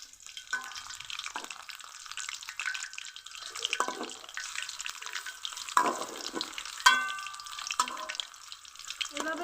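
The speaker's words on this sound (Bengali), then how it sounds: "এভাবে সুন্দর কালার করে আমি বড়াগুলো ভেজে নিব।" Radish fritters (mulor bora) fry in hot oil, giving a soft continuous sizzle with crackling bursts and occasional sharp pops, heard close up and fairly quiet.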